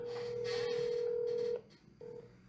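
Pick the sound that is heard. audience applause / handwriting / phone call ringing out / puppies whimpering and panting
phone call ringing out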